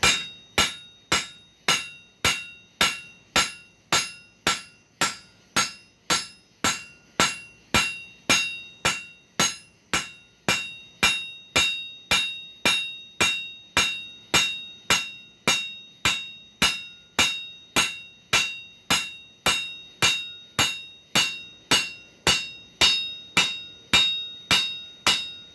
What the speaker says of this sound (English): let's do a little forging on it